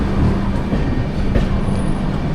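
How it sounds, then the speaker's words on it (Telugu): A passenger train pulls out of Nagpur Junction, heard from on board as a loud, steady rumble of wheels and carriage noise with faint clacking, continuous throughout with no voices. "ఇప్పుడే నాగపూర్ జంక్షన్ నుంచి అయితే స్టార్ట్ అయ్యి బయలుదేరిపోయింది"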